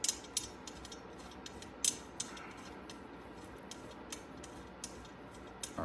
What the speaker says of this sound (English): Just take some moment to unscrew them.